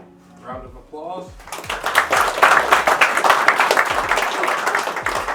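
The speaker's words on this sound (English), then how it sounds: "Round of applause." An audience at an aquascaping world champion's demonstration breaks into dense, sustained applause after a brief spoken line, with the clapping building quickly and staying loud and continuous.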